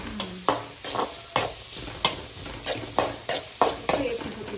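Onions fry in a pan for a village-style Mangalorean shrimp chutney, with a soft sizzle underneath a regular run of sharp spatula scrapes and taps, about two per second, heard close up.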